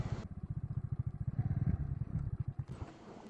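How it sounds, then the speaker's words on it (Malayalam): A motorcycle putters along a rural track through sugarcane fields, its engine thumping steadily, then slows and cuts out as the bike stops. "ഇവിടെ ബൈക്ക് നിർത്തി."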